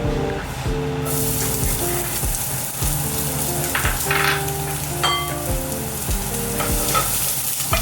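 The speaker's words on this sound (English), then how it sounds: "we're going to use our extra virgin olive oil right here. And we're going to start with our small diced onion." Diced onion sizzles steadily in extra virgin olive oil, a loud continuous frying hiss with occasional stirring scrapes, close and alone without talk.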